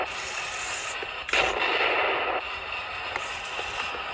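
Torro Challenger small-scale RC tank firing its gun with recoil: a sharp burst followed by a brief noisy rumble, with faint clicks afterward against steady background hiss, no talking.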